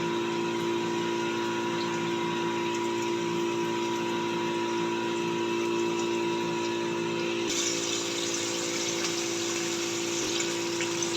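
Chicken pieces frying in a pan for a crunchy pasta dish, giving a steady, loud, continuous sizzle that brightens and hisses more strongly partway through.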